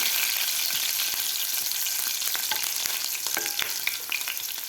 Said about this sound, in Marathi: आपल्याला व्यवस्थित परतून घ्यायच्या आहेत मिरच्यासुद्धा